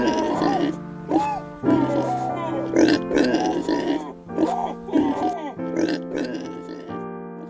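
A pig grunts and squeals in a pigsty while struggling with an old man, the harsh grunts coming in repeated bursts over a steady background tone.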